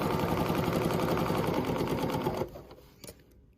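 A sewing machine runs a fast, steady stitch through pant fabric, a dense whirring chatter for over two seconds before it stops abruptly, followed by a couple of faint clicks.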